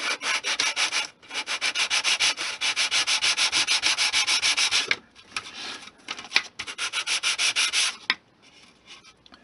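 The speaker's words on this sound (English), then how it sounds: "I'm going to use a piece of sandpaper to gently remove the glue from" A piece of sandpaper rubbed back and forth over the back of an HO-scale model building frame to remove glue residue. Close, rhythmic rasping strokes repeat in quick, steady runs, with brief pauses between bursts.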